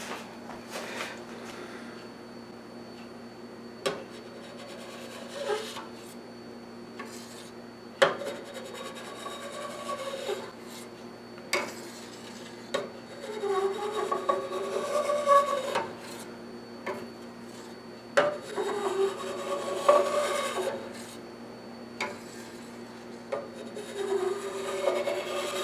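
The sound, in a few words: cutting mozzarella cheese curd underneath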